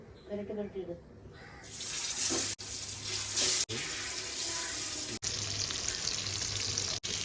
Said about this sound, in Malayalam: മീൻ വറുത്ത റെഡിയായി